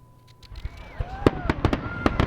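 Fireworks going off for the Fourth of July: rising whistles followed by a rapid series of sharp bangs and crackles, loud and fairly close.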